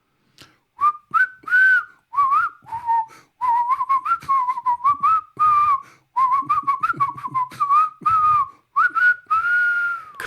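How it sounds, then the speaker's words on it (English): A person whistles a podcast theme song close up and alone, a lively melody of short, clear notes with brief pauses between phrases. "whistle to our theme song"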